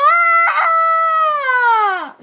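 A young girl imitates a rooster crowing with one loud, sustained, close vocal call that holds its pitch and then slides down at the end, with no other sound around it.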